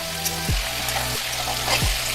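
Chicken curry with fried potatoes cooks in a pan over a high flame, sending up a loud, continuous close sizzle with stirring scrapes throughout.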